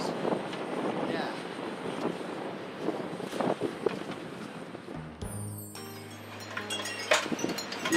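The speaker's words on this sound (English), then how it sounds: "It's windy today." Gusty wind buffets the microphone at a beach pier, a steady rumbling roar that swells and eases, with a burst of low broadband noise in the later seconds.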